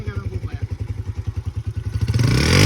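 A motorcycle engine, just washed in a stream, runs with a steady, rhythmic thudding idle close by, then revs up loudly toward the end.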